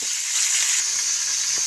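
Garlic and water spinach (kangkong) fry in a pan for adobong kangkong, giving a steady, close, loud sizzle with faint crackles and no talk.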